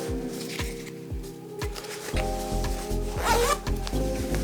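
A Stio Fernos jacket zipper is pulled in a series of short rasping strokes, then one long continuous zip, close and crisp against quiet background.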